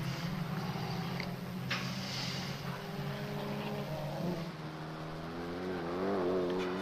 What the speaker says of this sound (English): the Mini has a mechanically driven supercharger rather than exhaust-driven turbo, and you can really hear it whine.